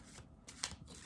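A deck of cards being shuffled in short papery riffling bursts, a few quick flurries over about a second, close and fairly quiet.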